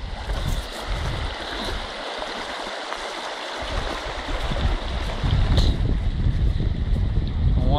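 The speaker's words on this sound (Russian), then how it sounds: "Вот такая река." Water of the Byala river in Bulgaria rushing steadily over stony banks, a continuous broadband flow with gusts of wind buffeting the microphone, heard close and fairly loud throughout.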